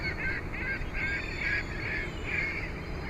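Geese honking repeatedly and close by while being fed, a steady run of loud overlapping calls over outdoor background noise.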